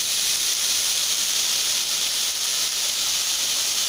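Boiled carrot, beet and beans hiss and sizzle steadily in a hot frying pan with peas, a loud even crackling wash with no pauses.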